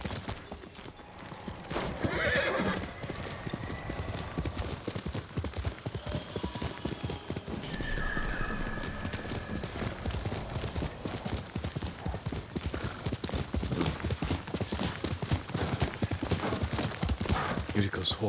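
Horse in the video game Ghost of Tsushima gallops with a fast, continuous clip-clop of hooves, neighing loudly near the start and again midway, running steadily for about eighteen seconds.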